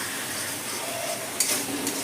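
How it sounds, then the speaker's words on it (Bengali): Tomatoes sizzling and frying in a pan, a steady crackle close by, with a brief scrape of stirring near the end. "আমার টমেটোটা কিন্তু খুব সুন্দর করে ভাজা হয়ে গেল"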